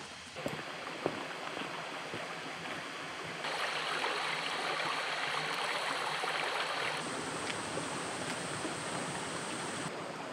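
Stream water flowing in the bush, a steady hissing rush heard close and alone, growing slightly louder partway through.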